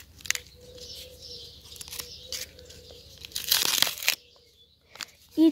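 Paper surprise packets are torn open and crinkled in a few close, sharp bursts, one loud rip standing out, with quiet pauses between and faint chirps in the background.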